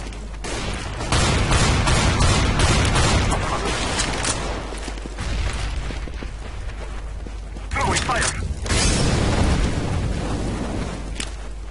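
Smoke grenade and flashbang going off in Counter-Strike: Global Offensive on Dust II, loud bursts and hissing under steady game noise and team voice chat, with a sharp blast near the eight-second mark.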